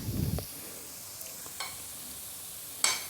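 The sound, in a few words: appe snacks frying uncovered in pan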